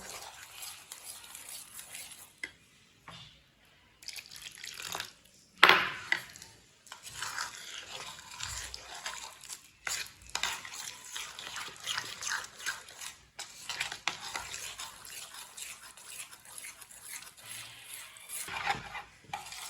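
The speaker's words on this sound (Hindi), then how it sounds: "पानी डाल लेंगे, मिक्स कर लेंगे अच्छी तरह।" A spoon scrapes and clinks steadily in a bowl while a thick batter paste for homemade chips is mixed, producing irregular stirring strokes with brief pauses and one louder knock.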